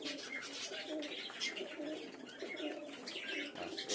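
Giribaz Madrasi pigeons fight up close with a flurry of scuffling, flapping and coos, a continuous busy bout of bird noise with no voices.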